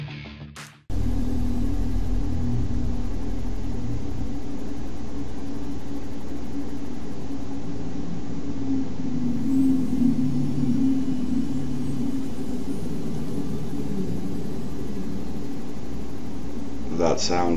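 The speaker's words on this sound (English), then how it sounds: "That sound is from the reef backs that are above me." Deep, whale-like calls from reefback creatures drift above the player in the video game Subnautica. A steady low droning rumble fills the scene and swells slightly midway.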